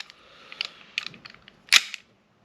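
A WE M1911 Gen2 gas blowback airsoft pistol with its grip safety engaged has its trigger squeezed, producing a few light, close mechanical clicks followed by one sharper, louder click near the end. No voices are heard.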